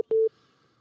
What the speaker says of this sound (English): Phone line is off the hook.